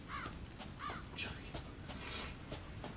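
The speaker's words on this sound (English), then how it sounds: "There's birds. Hello, birds." Crows caw in the horror video game Resident Evil 7, several short harsh calls at moderate distance over a dim ambient background with no talking.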